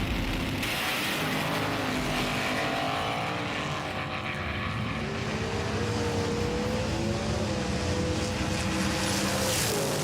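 Race cars roar off the start line together, a loud, continuous engine drone with rising pitch sweeps as they accelerate and round the first turn, filling the whole stretch without talk.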